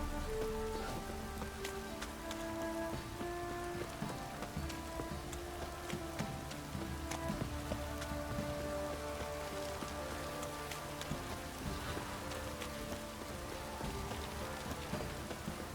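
Steady rain patters continuously on surfaces in The Witcher 3: Wild Hunt, with a faint musical drone underneath and no talking.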